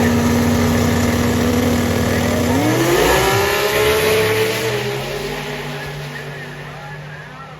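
A Toyota Supra drag car roars loudly nearby, its engine pitch sweeping upward through gear changes before fading as it runs off down the drag strip.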